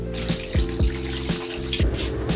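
Water pours from a tap into a large pan to boil pork intestine for chicharong bulaklak, a steady close splashing stream with rhythmic gurgling pulses.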